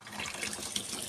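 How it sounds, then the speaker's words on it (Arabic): Boiled beef tripe gets rinsed under running tap water in a colander in a home kitchen, a brief, steady splashing gush heard up close. "وهفضيها في المصفى واشطفها واحطها ميه تاني"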